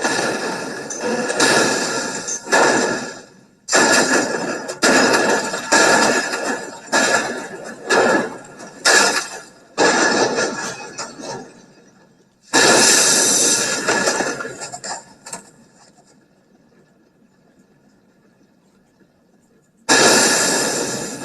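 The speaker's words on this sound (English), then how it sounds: "Let's look at the effect of speed in a series of controlled crashes." Series of controlled car crash tests into a barrier: loud bursts of crashing and scraping noise repeated in quick succession, separated by brief silences, then a long lull and another loud impact at the end.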